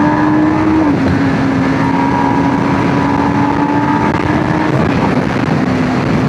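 A superbike ridden in the rain through traffic gives a loud, constant engine drone close by, holding a steady pitch with a slight dip near the start and no talk.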